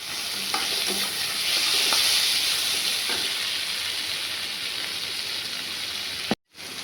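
Tomatoes frying in a pan for a Bengali egg curry, a steady loud sizzle and hiss with occasional stirring scrapes, ending in a brief cut to silence.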